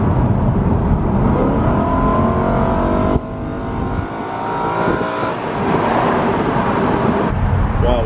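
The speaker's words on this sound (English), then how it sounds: "You have to stretch out the engine a bit to really feel the power." A BMW E93 M3 engine revs hard and climbs toward high rpm, a loud, close rising howl that briefly drops at a gear change, then builds again.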